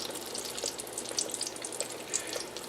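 Corn meal doughnuts frying in hot oil, giving a steady soft sizzling hiss with scattered tiny pops and crackles, fairly quiet and continuous with no voices.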